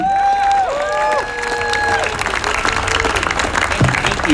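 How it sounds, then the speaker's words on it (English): An audience at a protest outside the Department of Justice in Washington, DC claps steadily throughout, a dense wash of applause with some whistles rising over it, loud and close. "So everybody, please give it up for Dan Cohen."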